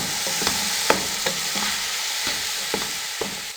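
Macaroni ingredients for a chicken vegetable macaroni stirred and fried in a pan, a steady sizzle with a spoon scraping and clinking in several distinct strokes, close and fairly loud with no talking.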